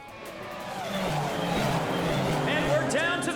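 Race cars roaring and tires squealing during the final leg of a race in the video game Trails Through Daybreak II, a steady loud engine drone with rising skids, under voices talking.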